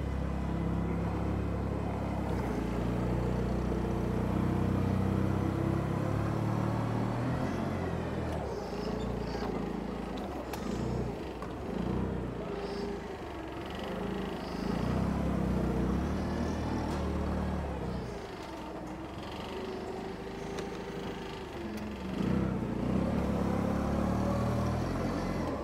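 Toyota 8FGCU20 propane forklift running with its mast lifting, a steady loud low engine rumble that shifts slightly as it works, heard up close throughout.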